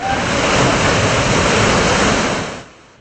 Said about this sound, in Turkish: Metrelerce yüksekliğe çıkan dalgalar zaman zaman Karadeniz sahil yoluna kadar ulaşıyor